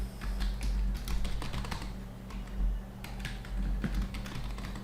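Rapid clicking keystrokes on a computer keyboard as a password is typed, a steady uneven patter of close taps over a low hum, with no one speaking.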